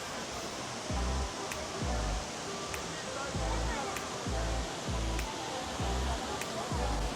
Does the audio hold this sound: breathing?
no